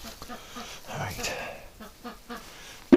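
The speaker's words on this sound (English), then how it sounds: "Oh, one Muscovy up here." Muscovy ducks in a winter barn give a few short, soft quacks scattered through the clip, mixed with a person talking nearby and some rustling movement.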